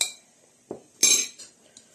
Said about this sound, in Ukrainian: Так, і гарно ложкою треба розмішати окремо гарно.